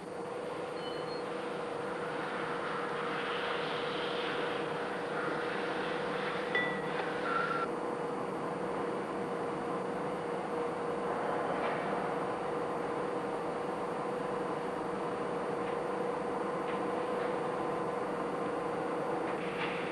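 Steady mechanical whirring and grinding as a milling cutter works an engine valve seat, a continuous hum with a fixed tone running throughout at even loudness, no voices.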